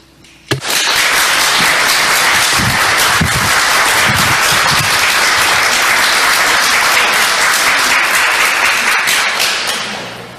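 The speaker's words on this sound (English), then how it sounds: "applause will cut into time" Loud, sustained applause from an audience at a public bill hearing, starting abruptly and holding as a dense wall of clapping for about ten seconds before tapering off.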